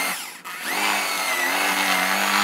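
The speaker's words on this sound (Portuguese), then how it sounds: "A ponta você coloca bem no X, bem no centro do X, e você fura." A power drill bores a hole through wood in a woodworking shop while making a simple wooden stool, a loud close whine that starts, briefly dips, then holds a steady high-pitched drone.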